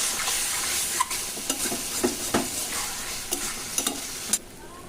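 Chicken liver masala being stirred and fried in a pan, with a steady hiss of sizzling oil and occasional scraping knocks of the spoon against the pan, close and clear with no talking.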